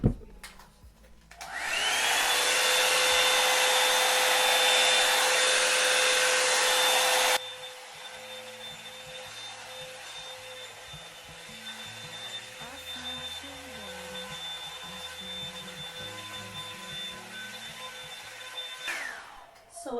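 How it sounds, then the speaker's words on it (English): A Revlon One Step hair dryer blows with a loud, steady roar and a high whine for several seconds, then drops to a quieter, continuous hum. "Obviously I did dry with the hairdryer, but it was still wet."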